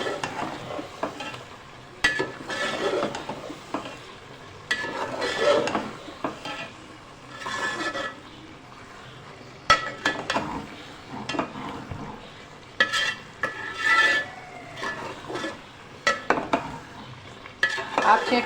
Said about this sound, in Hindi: अभी हम हरा धनिया और हरी मिर्चें डाल के इसको मज़ीद फिर 4 से 5 मिनट हम इसकी भुनाई करेंगे।